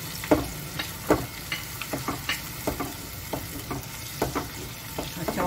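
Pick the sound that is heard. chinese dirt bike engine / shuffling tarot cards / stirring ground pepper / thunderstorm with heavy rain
stirring ground pepper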